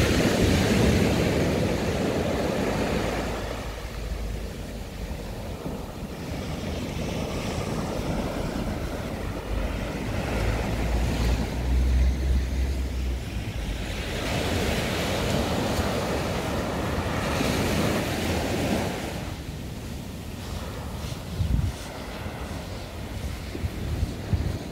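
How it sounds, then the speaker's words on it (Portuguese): Cold sea wind gusts steadily over surf on the beach at Balneário Camboriú on a chilly winter day, a continuous loud rushing roar of wind and breaking waves with no voices. "O ventinho vem do mar, hein?"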